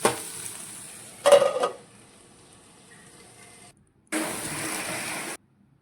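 Chopped tomatoes cooking in a pan for an egg curry, with a short burst of stirring near the start and a steady sizzle that stops, goes quiet, then returns briefly at the end.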